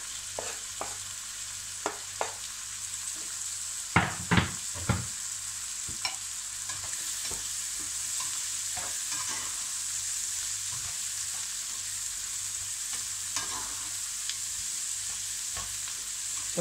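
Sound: zucchini frying and sizzling in a pan

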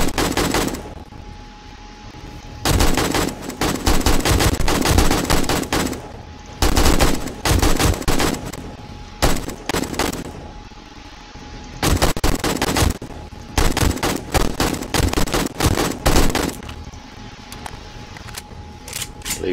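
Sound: gunfire during horde night in 7 Days to Die video game

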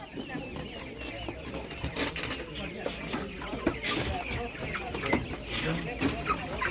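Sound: broiler chickens clucking at market

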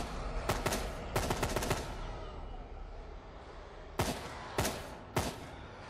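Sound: M4 rifle gunfire in the video game Fear the Night

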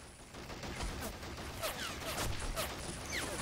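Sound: squad gunfire in the video game Men of War Assault Squad

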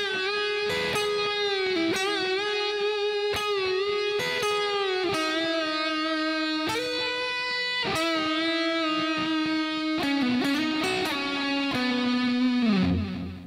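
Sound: electric guitar playing first section of a solo

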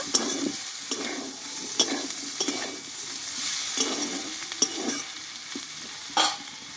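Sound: okra curry with spices being fried and stirred

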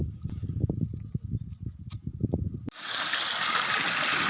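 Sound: boiling water

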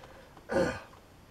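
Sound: coughing and throat clearing

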